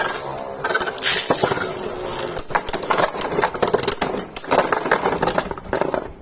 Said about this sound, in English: Let's do a test spin with it only.